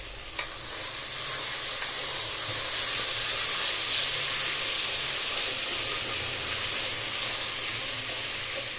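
Coriander, mint and vegetables fry in a pan for a vegetable rice bath, a steady close sizzle and hiss running throughout with faint stirring scrapes underneath.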